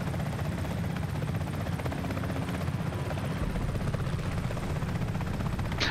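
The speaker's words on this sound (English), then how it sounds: "how interesting can you make a helicopter game?" A helicopter in the Comanche video game flies with a steady, loud rotor drone, constant throughout with no voices over it.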